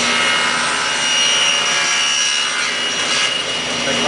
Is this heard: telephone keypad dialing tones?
no